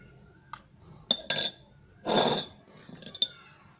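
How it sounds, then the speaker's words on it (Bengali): A spoon clinks sharply against a bowl while chopped tomatoes go into an egg paratha mixture, with several bright, close taps and a short scraping stir in between. "তারপর আমি দিয়ে দিচ্ছি কুচি করে রাখা টমেটোগুলো।"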